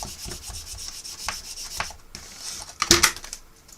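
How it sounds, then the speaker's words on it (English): A burnishing tool rubs over paper in short, dry scraping strokes at close range, irregular and quiet, with a brief louder scrape near the end. "Give it a burnish to make sure it's right over."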